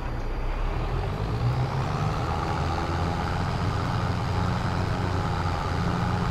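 A Case T8 tractor rated at 450 horsepower, as modelled in Farming Simulator 22, runs with a steady loud low diesel drone and engine rumble, continuous throughout with no talk.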